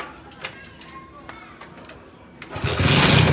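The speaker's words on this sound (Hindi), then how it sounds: "अब भाई पहले किक पे ये स्टार्ट हो जाती है। मैं आपको स्टार्ट करके दिखाता हूँ।" A motorcycle kick-started with a few clicks and scrapes of the kick lever before the engine catches and settles into a loud, steady idle close by; someone talks over the start.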